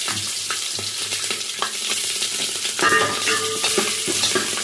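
Curry leaves and green chillies hit hot oil already crackling with mustard seeds and cumin on a low flame, a loud spattering sizzle with sharp pops that intensifies partway through.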